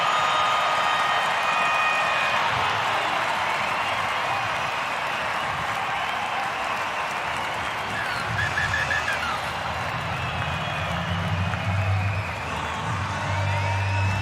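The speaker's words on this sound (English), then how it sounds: "Have a listen to this crowd now." Stadium crowd at a Newcastle Knights home rugby league win over the Eels, a loud, sustained roar of cheering, whoops and clapping that swells and carries on throughout, with a commentator's voice faintly within.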